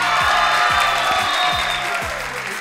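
A studio audience on a Saturday TV variety show claps for finalists, a dense wash of applause running under a rhythmic musical beat and sustained tones for a couple of seconds.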